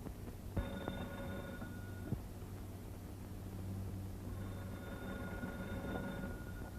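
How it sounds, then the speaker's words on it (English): An old-fashioned telephone bell rings in two bursts, one near the start and another near the end, over a steady hiss of background noise. "The telephone bell is ringing."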